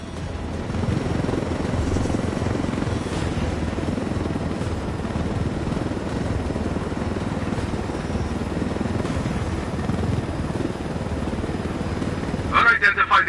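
Helicopter flying in the video game Ghost Recon Wildlands, a continuous loud rotor and engine drone that holds steady throughout, with voices talking over it.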